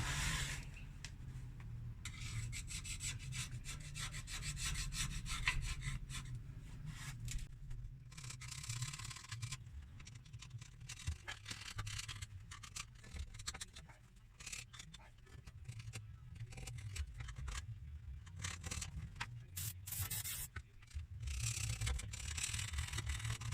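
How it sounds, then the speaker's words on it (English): A scraper rasps residue off the rear differential cover of a Ford F-150 after a spray of brake cleaner, with close, repeated short scratchy strokes over a low background hum. "Just a little brake clean on there, and then just lightly scrape it off."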